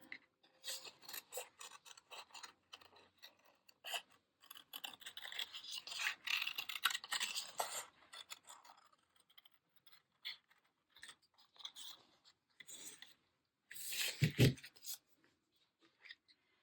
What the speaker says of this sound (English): And let's cut out the pumpkin.